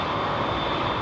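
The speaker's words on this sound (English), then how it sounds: "Dreamliner" Close, loud and continuous jet engine roar from a Boeing Dreamliner taking off at London Heathrow, a thick, steady rush with no voices.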